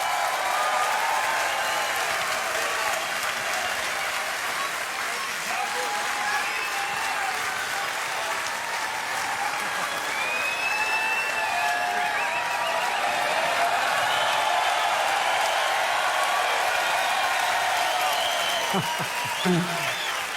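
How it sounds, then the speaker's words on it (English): Big crowd applause for the Ineos Grenadiers cycling team at the Tour de France team presentation, a continuous roar of clapping and cheering from a large outdoor audience, steady and loud throughout with voices blended in. "give a big applause to Ineos Grenadiers"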